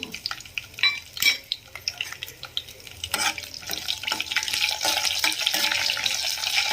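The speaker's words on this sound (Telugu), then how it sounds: "ఇవి ఇలా ఫ్రై అయ్యేటప్పుడు ఇందులోకి వెల్లుల్లి పొట్టు తీసుకొని వేసుకుంటున్నాను" Peeled garlic cloves hitting a hot pan and starting to fry alongside other ingredients for a moong dal curry, with stirring clatter and a steady sizzle that builds louder over the final seconds.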